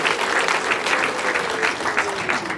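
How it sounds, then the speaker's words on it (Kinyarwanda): Applause breaks out at a wedding reception, a steady crowd of many hands clapping evenly throughout, with some faint voices mixed underneath. "Nsaba baraha bakuntera amashyi n'impundu maze wumve ko ngushimye."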